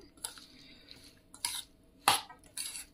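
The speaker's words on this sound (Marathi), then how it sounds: "आता याच्यात आपण लिंबाचा रस घातलाय, मिक्स करून घेते" A spoon stirring lemon juice into a chili pickle in a bowl, four sharp metallic clinks and scrapes spaced out over a quiet background.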